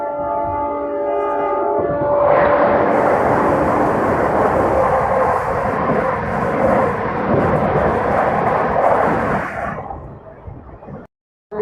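The Agra Vande Bharat express crosses at speed as a loud, close roaring rush that lasts about eight seconds, then cuts off sharply. A steady horn-like tone sounds just before it.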